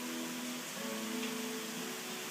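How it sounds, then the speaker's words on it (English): Steady jungle rain falls on a balcony, a dense even hiss that holds at constant loudness throughout, close and alone without voices. "That is rain."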